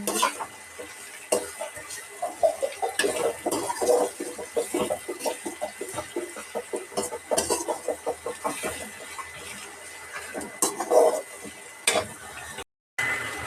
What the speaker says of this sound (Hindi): प्याज को हल्का ब्राउन होने देंगे।